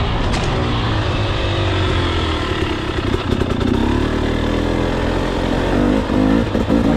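A dirt bike engine drones steadily close by while jumping a log, with a few throttle blips and revs rising near the end, no voices.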